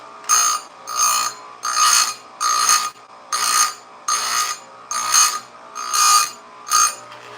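A 28-inch chainsaw chain being sharpened on a new chain sharpener in a garage. Each tooth gets a harsh metal-on-metal grinding burst lasting about half a second, nine evenly spaced passes with short pauses between, loud and close.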